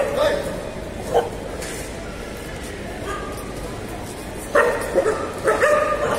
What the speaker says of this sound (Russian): Собаки тут на всех бросаются еще.